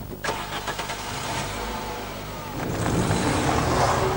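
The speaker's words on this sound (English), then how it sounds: "As you pull away, you're immediately aware that this is a much more conventional petrol engine than the old Transporter" Volkswagen Transporter T4 van petrol engine cranking with a few rhythmic starter pulses, then catching and settling into a louder steady run close by; no voices.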